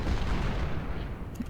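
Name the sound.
artillery cannon fire in video game Ultimate General Civil War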